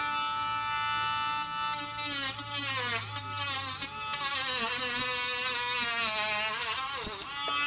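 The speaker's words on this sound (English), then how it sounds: "this is my first time ever even using a Dremel" A Dremel rotary tool cuts into a plastic toy backpack part, a high buzzing whine whose pitch dips and recovers as it bites into the material, steady and close for several seconds.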